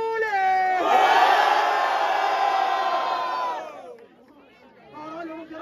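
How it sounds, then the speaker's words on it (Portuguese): Crowd at a Brazilian freestyle rap battle cheers and shouts loudly for about three seconds during the audience vote, a dense roar that cuts off abruptly and leaves scattered voices and chatter. "Diferentemente, barulho para a Júlia!"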